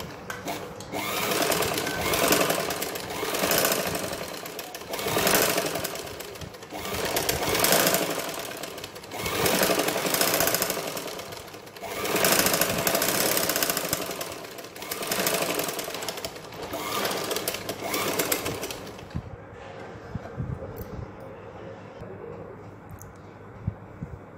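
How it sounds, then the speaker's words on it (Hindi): A sewing machine stitches a front neck strip in repeated sustained runs, its steady mechanical whirring pulsing for several seconds at a time with short pauses, close and loud, and quieting near the end. "अब इसके यहां पे इस साइड पे सिलाई लगाएंगे एक।"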